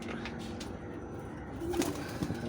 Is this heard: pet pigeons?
yes